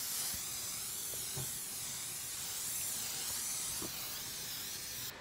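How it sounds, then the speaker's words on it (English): A steady, loud hiss of oil spray sizzling on a hot pan on an Argentine asador grill runs continuously, with occasional faint clinks beneath it. "I'm going to spray this down and get it hot."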